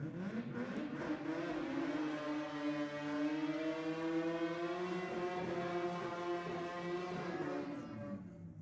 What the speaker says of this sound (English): Big RPM in the burnout for the RX4.